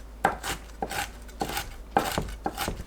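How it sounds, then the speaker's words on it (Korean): Peanuts are coarsely chopped with a knife on a board, five crisp, evenly spaced chops with short scraping tails, close and moderately loud, with no talking. "땅콩을 큼직하게 다져서 준비합니다"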